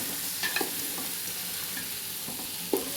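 A pot of rice being stirred and fried for biryani, with a steady close sizzle broken by a few sharp scrapes and clatters of the spoon against the pot.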